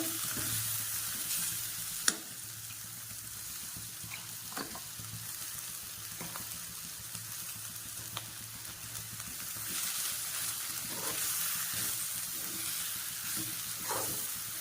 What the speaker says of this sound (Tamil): இப்போ இதில் நான் வந்து கீரை வந்து போட்டுக்கிறேன் கீரை போட்டு நல்லா வதக்கலாம் இதை